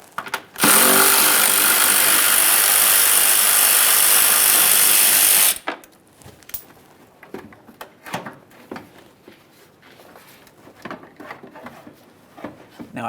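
A power tool spins out a 10mm bolt holding the washer fluid reservoir on a 2007-2013 Chevrolet Silverado 1500, a loud steady whir lasting about five seconds, followed by quieter clicks and handling noises.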